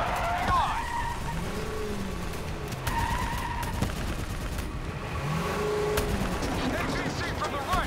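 Rapid gunfire aimed at an armored vehicle in Call of Duty: Black Ops 3 rattles under a constant roar of engines and battle noise throughout.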